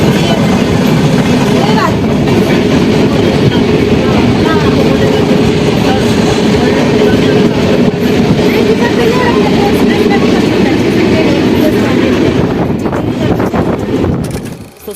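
Danapur Jogbani Intercity Express rolling along the Jhanjharpur route, heard from on board as a loud, steady rumble of wheels and carriage with wind buffeting the microphone, continuous until it eases off at the very end.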